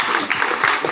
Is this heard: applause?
yes